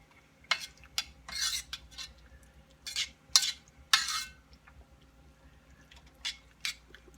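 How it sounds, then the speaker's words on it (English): A spoon scrapes and stirs a shrimp and grits mixture in a pot, giving sharp metallic clinks and scrapes in irregular bursts, fairly close and moderately quiet, with no talking. "So I'm going to stir that around."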